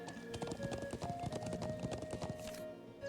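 Horse hooves clip-clop in a steady, busy rhythm as a mounted horse runs through The Legend of Heroes: Trails of Cold Steel, with a brief whinny-like tone and no talking.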